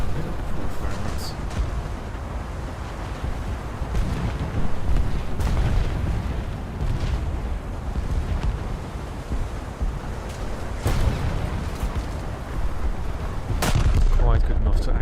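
Warship turrets firing in a naval battle game: heavy booms every few seconds, spread over a constant rumbling wash of sea and engine noise, with a voice now and then.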